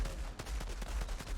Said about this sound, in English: we'll shoot these guys that come running out of the doors